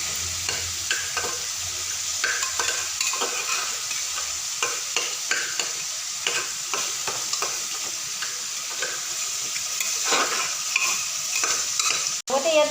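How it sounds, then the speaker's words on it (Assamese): A spoon stirs turmeric into a fish curry frying in the pan, with continuous close sizzling and a steady scraping, clattering rhythm of stirring throughout. "হালধি, ভালকৈ মিলাই ল'ম।"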